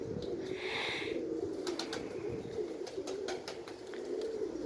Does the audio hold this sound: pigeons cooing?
yes